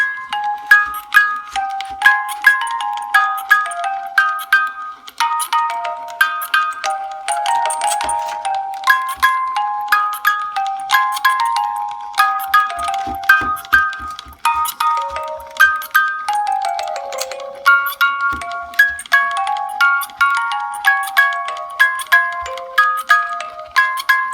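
A bright synthesized melody built in Chrome Music Lab plays alone with steady, chime-like notes stepping up and down in a quick, even rhythm throughout.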